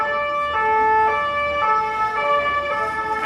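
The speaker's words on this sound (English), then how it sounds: "So that ambulance is going right past us, and now he's reversing towards us again." An ambulance siren in a Paris street near Notre Dame, a loud two-tone wail alternating steadily over traffic noise as the vehicle passes close by, with no talk.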